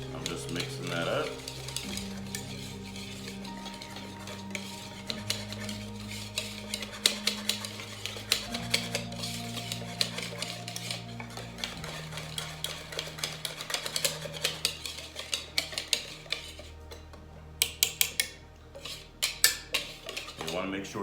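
Spoon scraping and clinking in a bowl while matzah ball mixture made with Streit's matzah meal is stirred, with repeated irregular taps and scrapes close by and no talking.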